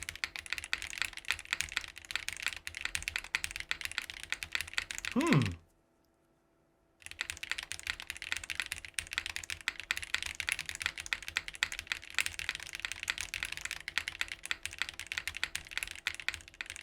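Continuous fast typing on a mechanical keyboard fitted with pre-lubed Wuque Aurora switches, dense clicky keystrokes close up, broken by a short silent pause midway before the typing resumes.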